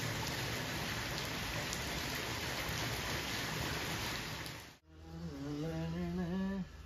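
Heavy rain pours down during a storm in Punjab, a dense, loud, continuous hiss of drops on surfaces that briefly dips and then resumes with a rising, wavering tonal sound over it.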